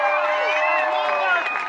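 Children from Tlaxcala cheer and shout together in a loud, continuous crowd roar with scattered clapping, high excited voices layered throughout during a park visit.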